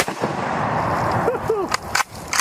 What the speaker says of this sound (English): that's a muzzle blast right there